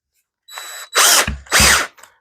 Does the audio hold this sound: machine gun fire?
no